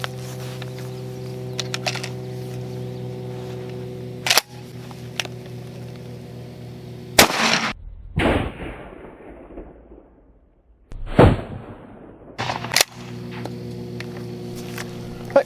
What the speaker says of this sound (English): So this is Winchester Super X double-aught buck 9-pellet against the Ballistic Helmet Co.